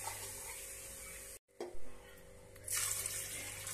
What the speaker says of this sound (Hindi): तो इसमें हम 4 गिलास पानी डालेंगे